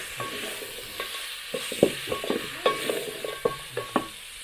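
Beef stew being stirred in a pot over a fire, with repeated close scraping and clinking knocks of a spoon against the pot over a soft sizzle.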